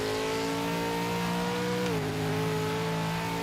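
V8 race car engine in a racing video game, a loud sustained tonal drone that dips briefly during a gear change and then climbs again, close and without talk.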